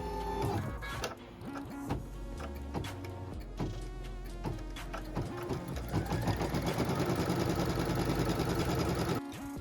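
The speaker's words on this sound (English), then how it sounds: "we're going to move to our embroidery machine and start stitching" An embroidery machine stitches a placement line for quilt batting, a steady rapid needle clatter with shifting mechanical whirr that grows denser and louder toward the end before stopping abruptly.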